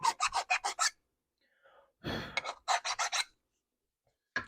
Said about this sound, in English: Now we'll go over with a really fine file.